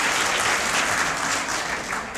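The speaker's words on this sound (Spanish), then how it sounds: "Un aplauso muy fuerte para ellos." Loud, steady applause from a high school audience, dense clapping throughout with no gaps.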